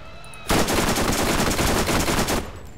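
In Borderlands, a sudden burst of rapid automatic gunfire starts abruptly and rattles on loud and dense for about two seconds, then cuts off.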